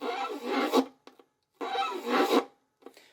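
Fiddle strings are scraped in a counterclockwise circular chop, giving two close, raspy, bowed strokes of under a second each, separated by short pauses and a few faint brushes.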